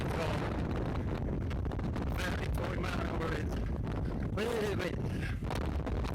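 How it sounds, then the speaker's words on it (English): Strong wind buffets the microphone in a constant low roar throughout, with a few faint voice-like tones drifting through. "Wind."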